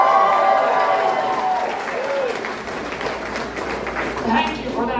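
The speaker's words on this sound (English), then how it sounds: "Thank you for that sympathy applause." Steady applause and some cheering from a comedy club audience fill the room, loud and continuous, with someone talking over it.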